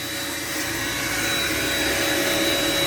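A household vacuum cleaner runs steadily in a small home, a loud continuous whine with a constant high tone, close by and uninterrupted.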